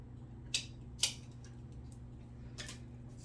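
Scissors snip off excess zipper length for a sewn pouch, two crisp close cuts in quick succession and then a softer third snip, against a quiet room hum.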